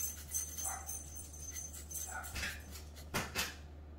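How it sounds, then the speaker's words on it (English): Dogs bark and yip faintly in the distance, a few scattered short calls over a steady low hum. "dogs were barking at their fence friend."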